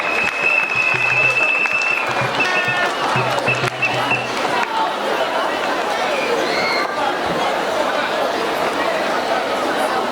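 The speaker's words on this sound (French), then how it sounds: "est-ce qu'on peut applaudir pour elle," A crowd applauds steadily and loudly throughout at a candidate debate, with some chatter and babble from the audience mixed into the clapping.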